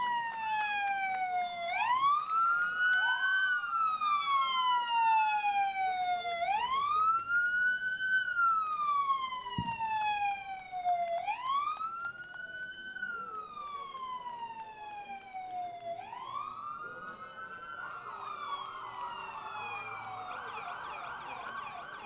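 Emergency vehicle sirens wail during a Veterans Day parade, a loud wailing siren sweeping up and down in repeated cycles, joined near the end by a second, faster warbling siren.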